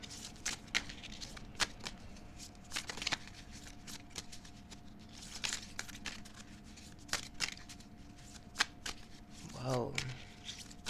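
Tarot cards being shuffled by hand, a quick run of soft papery riffles and taps close up, with a brief voice near the end.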